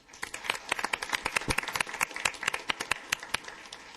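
A small council-meeting audience claps for a newly inaugurated councilman, a thin, uneven scatter of individual handclaps at moderate distance, lasting a few seconds without talk.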